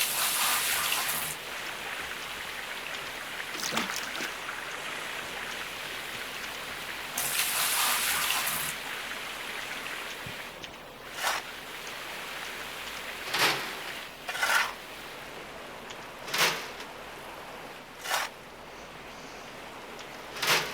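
Water rushing steadily into a gold sluice box in a hardcore gold-rush mining game, a broad hiss with surges, followed by several short separate splashes or clunks.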